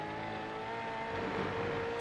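Racing V8 cars run nose to tail in a pack at Canadian Tire Motorsport Park, a steady droning engine whine from an onboard roof camera, fairly faint and even throughout.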